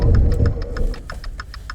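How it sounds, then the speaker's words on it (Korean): A 2018 Maserati Quattroporte GTS runs through a braking test, with a low engine and road rumble that eases off as a rapid series of evenly spaced, high-pitched ticking pulses repeats throughout, close and moderately loud. "이번에는 간단히 제동 성능도 알아볼까요?"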